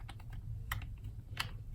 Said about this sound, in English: You can see there's a dial here. It's for clicking sounds.